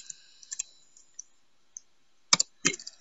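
Sparse keystrokes on a computer keyboard as an AT command is entered, a few isolated light clicks followed by two louder, closer bursts of taps near the end, in an otherwise quiet room.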